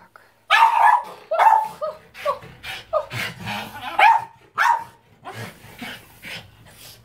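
A dog barks repeatedly in a home, loud and close, in a series of sharp yips and barks with short gaps, some ending in whimpering tones.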